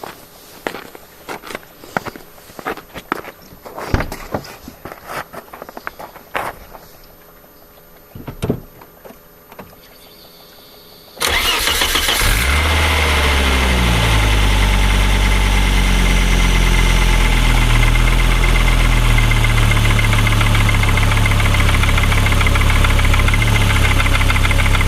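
A car starts with the cleaned MAF sensor reconnected, cranking briefly and then settling into a loud, steady idle after a stretch of clicks and handling noises.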